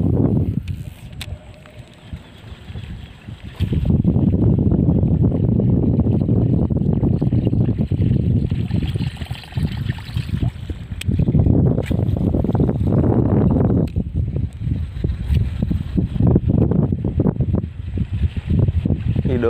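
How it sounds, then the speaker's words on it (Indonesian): Strong wind buffets the microphone in long, roaring gusts over the Jatigede reservoir while people fish from a boat, broken by brief calmer moments. "Angin mulai datang,"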